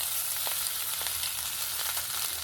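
Mashed boiled potato frying in oil with ginger and chilli gives a steady, dense sizzle, with a few faint stirring touches and no voices.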